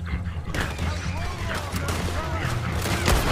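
Gunfire in the Red Dead Redemption 2 video game: several sharp reports crack through a busy mix of rumbling background noise, with broadband bursts spread across the clip, a louder one near the end.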